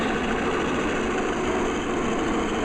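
Warbird airplane engines taxiing in at Apollo Field during an Independence Day event, a steady broadband drone of engine noise that holds level and fairly loud throughout with no talk.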